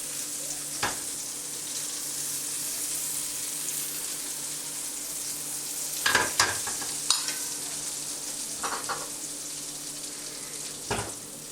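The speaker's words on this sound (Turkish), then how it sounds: "Hemen geri kalan tereyağını eritmeye başlıyorum" Butter melts in a pan with a steady, soft sizzle while making kadayıf with walnuts. A few louder clinks and scrapes of a utensil break in now and then, and no one speaks.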